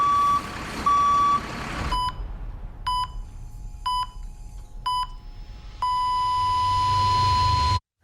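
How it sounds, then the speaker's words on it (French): A reversing vehicle on a construction site gives repeated loud electronic beeps in an even rhythm, ending in a long sustained tone over a low engine rumble, with no talking. "Sur un chantier, chaque manœuvre de recul d'un véhicule comporte des risques."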